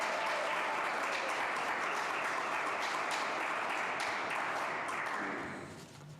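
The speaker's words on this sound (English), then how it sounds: "Can we clap for my wife real quick?" Congregation applauding at a Pride service in a church, dense steady clapping that fills the space and fades out at the end.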